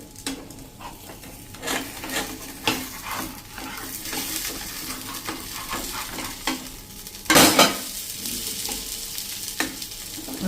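A thick cabbage rotla flatbread fries in oil in a pan. A steady sizzle runs under repeated scraping and tapping of a spatula as it is turned, with one louder clatter midway. The sounds are close and distinct, with no talking.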